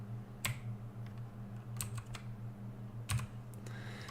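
Computer keyboard keys pressed while piloting in Kerbal Space Program, a few distinct clicks and short clusters of taps spaced across a few seconds over a steady low hum, with no talking.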